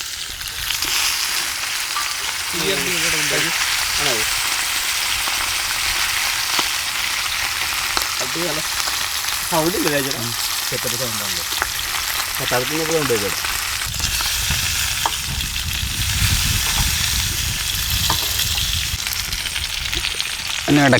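Fish fries in a pan with a loud, continuous sizzle and crackle, close and steady for the whole stretch, while voices talk intermittently over it.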